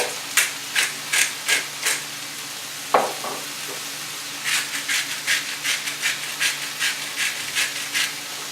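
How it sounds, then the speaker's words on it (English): A pepper mill grinds fresh black pepper to season turkey and vegetable fajitas. It gives a short run of ratcheting crunchy twists, a single clunk, then a longer, quicker series of close, crisp grinding clicks with no talk. "Fresh cracked black pepper, maybe a little bit of salt."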